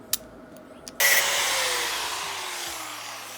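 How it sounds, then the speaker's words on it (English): An angle grinder spins up and cuts out stripped screws on a Nexgrill Oakford 1000 pellet grill, starting abruptly after a few faint clicks and holding a loud, steady high-pitched whine that slowly drops in pitch. "couldn't get it done with the screwdriver, so got the grinder on it"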